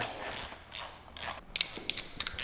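Loosening the fasteners on the headlamp bezel of a Harley-Davidson M8 Softail Breakout with a hand tool, giving repeated close metallic ratcheting clicks in short bursts that quicken toward the end, with no voices.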